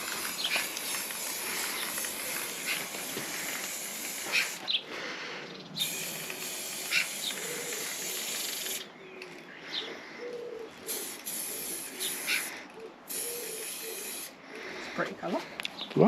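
Aerosol spray paint hisses in short repeated bursts onto a Land Rover Freelander 2 front grille and side vents, fairly faint with brief pauses between sprays.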